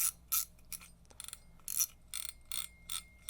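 Drag of a Daiwa BG MQ spinning fishing reel clicking in short ratcheting bursts, dry and bright with a faint ring, repeated about eight times at uneven intervals, close-up and quiet with no voices.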